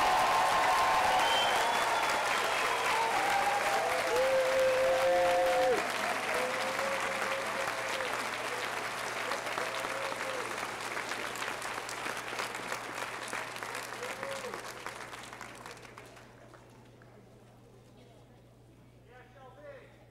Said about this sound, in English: Why don't we give our graduates one more round of applause as they continue to come in?